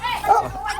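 Dogs give a short, close yip and a whimpering bark, brief and mixed with faint background voices.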